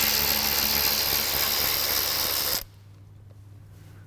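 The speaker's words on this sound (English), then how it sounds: "there's a 10 mm bolt right here, so we'll start with removing that" A ratchet loosens a 10 mm bolt on a 2022 Toyota Tundra during a front bumper installation, giving a steady, close, dense clicking for a few seconds before it stops abruptly into near quiet.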